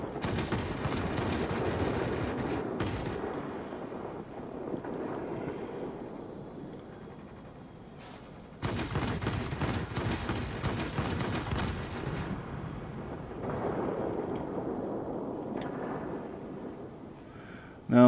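Revolver cannons on a MiG-9 jet in World of Warplanes fire in long rattling bursts over a steady engine roar, with a brief pause between bursts.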